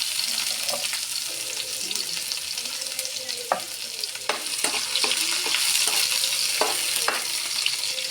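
Food sautés in a hot pan, a dense continuous sizzle with scattered sharp pops and occasional utensil clicks as it is stirred, close by and fairly loud from start to finish.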